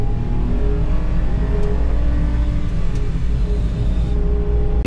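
A camping mini van engine labours up a steep, dangerous mountain road in Davao, a loud, steady low rumble and whine held close with no let-up and no talk.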